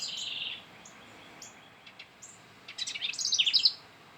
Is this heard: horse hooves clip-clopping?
no